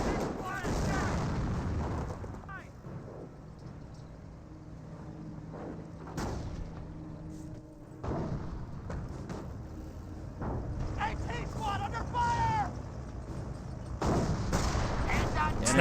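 A Company of Heroes 1 multiplayer battle with smoke rounds and artillery landing: rumbling booms and scattered gunfire crackle at a distance, with a voice talking over the battle noise.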